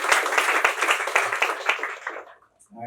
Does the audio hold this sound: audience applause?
yes